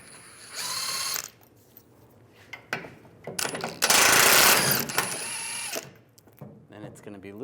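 Ratchet with a 21mm socket backing out bumper bolts on a 2007-2013 Chevrolet Silverado 1500, giving bursts of rapid clicking that start and stop several times, with a louder sustained stretch midway and talk around it.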